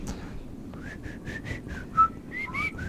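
A person whistles a short tune of about ten clear notes, close and moderately loud, with faint background noise.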